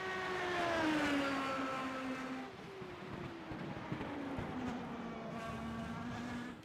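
A simulated IndyCar laps Silverstone in the iRacing game, its engine whining high and then dropping in pitch through shifts and corners, a single car heard close and alone.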